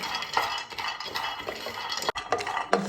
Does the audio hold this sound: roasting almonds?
yes